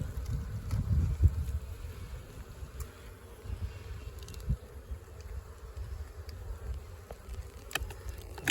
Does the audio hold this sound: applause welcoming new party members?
no